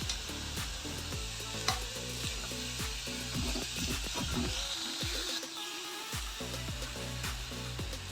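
Green chilli, ginger, coriander and curry leaves being sautéed in a pan give a steady close sizzle with repeated scraping stir strokes, a brief quieter dip midway.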